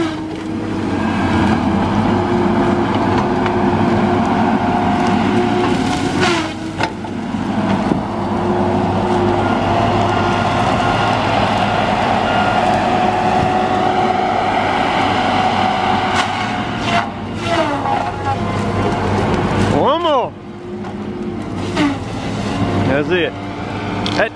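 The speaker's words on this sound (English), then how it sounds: "notice that disc hardly ever drops in the RPMs." Tigercat LX830D feller buncher with a 60-inch, 1,400-pound saw disc spinning at about 1,205 RPM, a loud steady mechanical roar with a constant whine that barely dips, broken by brief cutting surges while a voice talks over it.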